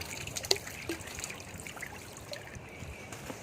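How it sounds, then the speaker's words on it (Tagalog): Water trickles and flows into a drainage channel, a mix of fresh and salt water, with a steady soft gurgle and a few small splashes, fairly faint and with no talk. "Napasok ang tubig."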